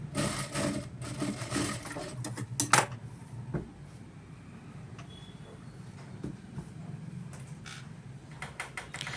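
Machine stitching over the frill of a handmade doormat, a busy mechanical rattle in quick bursts at first, then settling into a quieter steady whir with occasional clicks.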